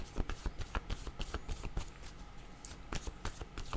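Tarot cards shuffled by hand, a steady run of close, crisp riffling slaps and flutters with brief pauses, no talking.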